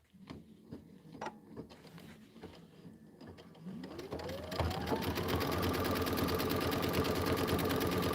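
A sewing machine stitches quilt filler blocks, starting after a few scattered clicks and soft handling noises, then ramping up into a steady, loud, continuous whir that runs to the end without talk.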